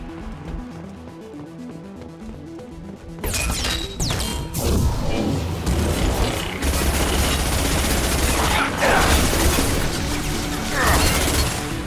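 Heavy gunfire in Mass Effect 2: a quiet stretch with game voices gives way to loud, dense bursts of automatic weapons, impacts and crashing explosions that keep pounding close up for several seconds.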